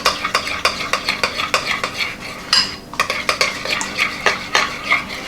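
A spoon stirs salad dressing made with milk in a bowl for a fall Waldorf salad, giving rapid rhythmic clinks and scrapes, close and fairly loud, with a brief swishing pause midway.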